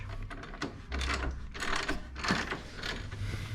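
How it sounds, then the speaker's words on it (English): A wrench ratchets quickly on the axle bolt of a 2005 Yamaha YZF600R Thundercat motorcycle, giving close, rapid mechanical clicking in uneven bursts with a faint hum beneath. "I'm going to start taking off the axle bolt, and it's a 15/16"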